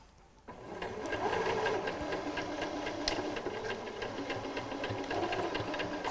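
A sewing machine runs in a steady, fast rhythmic whirr while stitching piping and back stitching to lock the seam, close and continuous after a brief quiet start.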